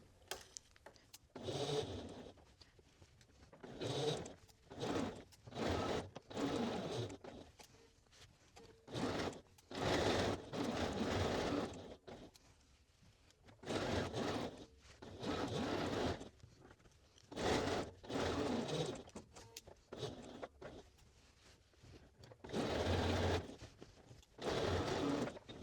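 A sewing machine runs in short, repeated bursts with pauses between them while stitching pocket bag pieces, each burst a close, rapid mechanical patter.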